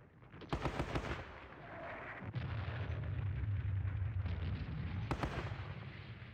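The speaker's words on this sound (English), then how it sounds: "We do have this machine gun here. Let's lay some lots of fire on this group here." A machine gun opens up in the Squad Battles Red Victory wargame at Ponyri, with sharp bursts of gunfire, a sustained low rumbling stretch and later cracks. Close and loud, with no talk.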